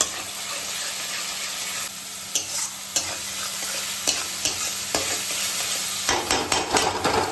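Ground spice and onion paste frying in oil for a prawn and elephant foot yam curry: a constant hiss of sizzle with repeated rhythmic stirring scrapes and knocks, growing busier near the end.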